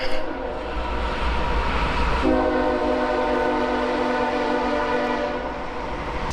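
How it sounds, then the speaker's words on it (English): A train rumbles past a riverside campground as a loud, sustained horn blast sounds over the rolling noise and then fades off. "if you can hear the train, they come by here a couple of times a day"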